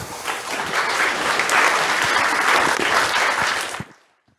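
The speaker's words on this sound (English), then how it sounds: "Can we have a round of applause for Katherine?" An audience in a presentation hall breaks into steady, dense applause that holds for several seconds, then fades out quickly into silence.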